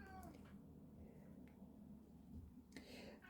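A cat meows faintly a couple of times in a quiet room, with soft rustling and a quiet voice in the background.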